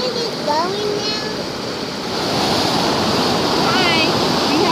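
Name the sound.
waterfall and water flowing over rocks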